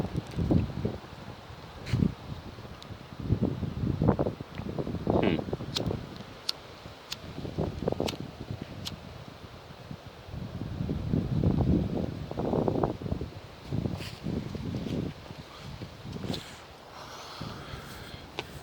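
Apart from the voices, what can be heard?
strong wind outdoors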